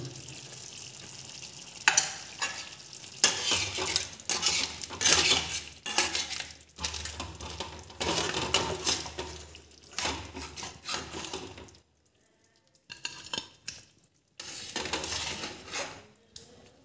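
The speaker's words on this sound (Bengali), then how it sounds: "এবারে আমি একটু গরম মশলা দিয়ে নেড়ে চেড়ে নামিয়ে দেবো।" Crab curry being stirred in a pan with garam masala, a spoon scraping and clinking against the metal over a steady sizzle, repeated stirring strokes with brief pauses, close and clear with no talking.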